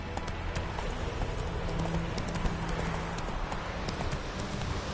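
A horse gallops in The Witcher video game, its hooves pounding in a steady, fast clip-clop rhythm that holds loud and close throughout, with no voices over it.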